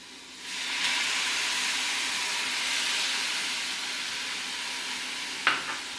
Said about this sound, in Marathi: किंचित पाणी घालते मी.